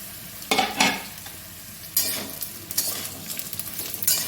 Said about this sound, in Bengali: তো উচ্ছেটা আমার ভাজা হয়ে গেছে। এর মধ্যে আমি দেবো সজনে ডাঁটা আলু বেগুন।